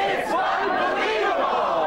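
Crowd chanting a short refrain in unison, loud and continuous over a couple of seconds, with massed voices filling the space.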